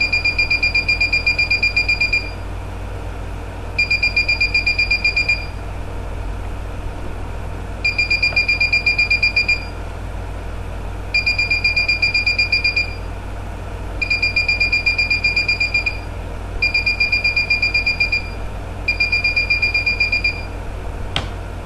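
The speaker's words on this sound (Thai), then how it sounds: "บัสเซอร์ก็จะมีเสียงนะครับถ้าผมเอาเข้าไปใกล้ๆ" A buzzer driven by an Arduino magnetic switch module sounds in seven bursts of shrill, steady tone, each about one to two seconds long with short gaps, loud and close over a faint hum.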